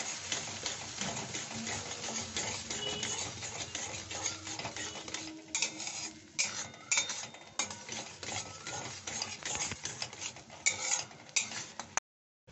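A spoon stirring powdered milk into pointed gourd halwa in a pan, steady close scraping and clinking against the metal that continues throughout without talk.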